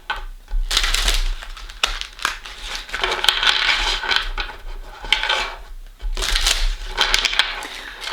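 Tarot cards are shuffled in quick riffling bursts, a crisp flutter that repeats with short pauses between shuffles, close and fairly loud.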